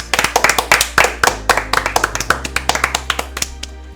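Close, crisp clapping on a sports talk show, a quick run of sharp distinct claps from only a few hands, loud and near, fading slightly toward the end.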